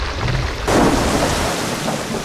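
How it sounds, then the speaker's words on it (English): Steady rain on a summer backpacking trip along the Old Loggers Path, a loud, dense wash that swells after a moment, with a low thunder-like rumble beneath and no voices. "That is rain."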